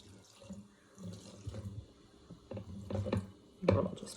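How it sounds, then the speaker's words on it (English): Vinegar poured over baking soda and a paper towel, heard as close, uneven splashing pours that come in short bursts with quiet gaps, the last burst the loudest. "I'll just pour in the rest of it."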